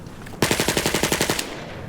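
A video game machine gun played through a Hi-Fi sound setting fires one burst of about a dozen rapid, sharp shots lasting roughly a second, then a short fading tail.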